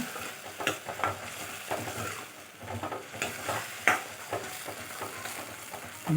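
A spoon stirs ground green tomato paste into a cauliflower and potato masala in a pan, with repeated scraping strokes and soft sizzling at an irregular rhythm, close and moderately loud, no talking.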